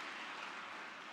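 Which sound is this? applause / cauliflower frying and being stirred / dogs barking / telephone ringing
applause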